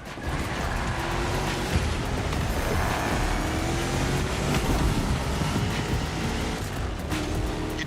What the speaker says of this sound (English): You're driving my #1 car, the star of my collection, the 1969 Mustang Boss 429.